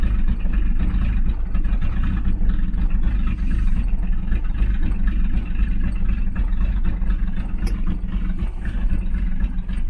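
Datsun 240Z with an L28 engine, freshly fitted with an electronic ignition coil, idles steadily and low after sitting about a week, a continuous close rumble with no talk.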